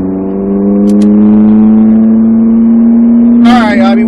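A Ferrari F458 pulls onto a race track, its engine note holding a steady low drone that climbs slightly, with a brief sharper rev burst near the end, heard up close under an ongoing voice.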